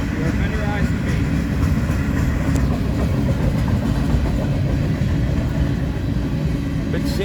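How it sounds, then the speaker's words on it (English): A freight train with mid-train DPU locomotives rolls past nearby in Blair and Fremont, Nebraska, a steady loud rumble of wheels and engines throughout, with voices now and then over it. "Here comes mid-train DPUs and more trains."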